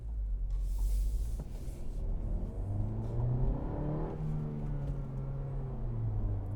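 A 2022 Honda Civic Hatchback pulls away in first gear, its engine note rising steadily in pitch under load, then easing off briefly before climbing again, heard close and continuous inside the cabin.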